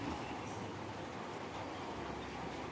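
A steady, soft hiss of light rain falling outdoors, continuous and even with no voices.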